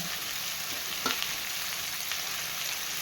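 Onion, garlic and ginger frying together in a pan for an egg curry, a steady close hiss of sizzling oil with a brief stirring clatter near the middle.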